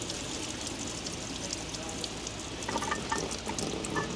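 Engine fluid drains out of a car engine in a steady, close trickling stream that continues without a break.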